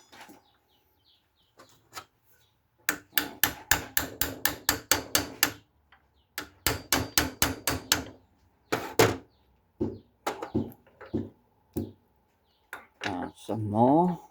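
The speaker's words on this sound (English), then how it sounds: "to hammer it out" Someone drives a speedometer drive gear out of a Peugeot 404 BA7 four-speed gearbox, striking through a sponge in fast bursts of sharp taps with short pauses, followed by a few scattered blows and a scraping turn.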